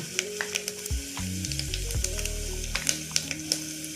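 Mustard seeds and cumin sizzle in hot oil for a tempering, a close, continuous fry peppered with sharp popping crackles. Stirring clatter runs through the middle.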